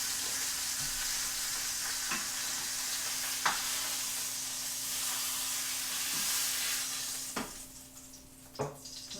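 Beef frying in oil in a home kitchen, a steady close sizzle and hiss throughout with a few sharp clinks of utensils against the pan, swelling louder near the end, no talking.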